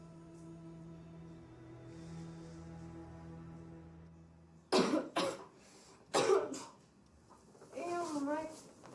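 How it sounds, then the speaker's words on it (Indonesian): Several sharp coughs burst out in quick succession after a stretch of low humming background, followed by a short voiced sound; close and fairly loud. "Ini aku lagi batuk"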